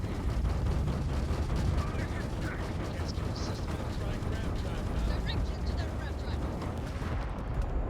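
Spaceship turrets in Starfield fire steadily in a dense, rapid mechanical barrage that runs throughout, with a voice talking over the combat noise.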